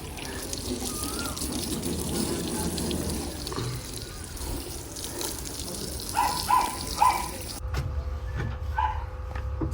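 Water sprayed over a tempo vehicle during washing, a steady broadband hiss and gush running throughout, with a few louder splashes near the end.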